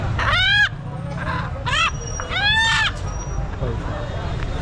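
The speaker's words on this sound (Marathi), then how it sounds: "कोंबडे बघा मित्रांनो" Chickens and roosters at a busy goat, sheep and poultry market in Shirur call in several loud, ringing bursts over a low crowd murmur, with people talking in the background.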